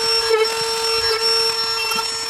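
Power tool cutting into a damaged carbon fiber car hood, a loud, steady high-pitched whine with a constant grinding buzz, close up and continuous for the whole moment.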